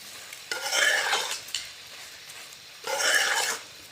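Carrot halwa being stirred after sugar is added, two separate bursts of close scraping and sizzling from a spoon moving through the thick mixture in a pan, with quiet pauses between.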